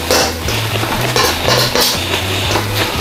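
Metal spatula or spoon scraping and clinking against a pan while stir-fried pork with ampalaya is mixed after a swirl of sesame oil, steady close-up clatter with repeated knocks over a low hum.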